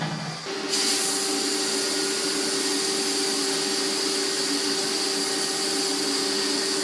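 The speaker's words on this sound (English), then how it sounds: "I'm going to weld faces first, going from inside to outside" A laser welder fusing metal faces gives a steady, loud, high hiss with a constant tonal whine. It starts abruptly after a brief softer moment and runs unbroken to the end.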